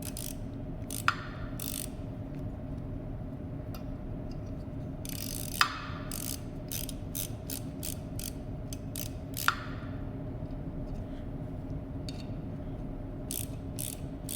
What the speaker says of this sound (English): my littlest ratchet, be real gentle with it